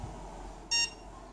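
A cordless curling iron gives a single short, clear electronic beep as it is switched on, alone against a quiet room.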